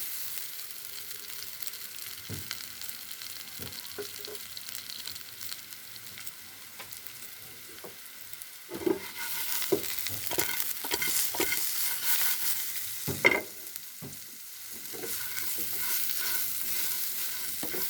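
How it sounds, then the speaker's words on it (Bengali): Slices of bitter gourd fry in a pan until brown, giving a steady soft sizzle broken by scattered scrapes and taps of a stirring utensil, with a brighter burst of frying partway through. "উস্তগুলো সুন্দর করে ব্রাউন কালার করে ভাজিয়ে নিলাম।"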